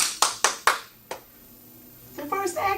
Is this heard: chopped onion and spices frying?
no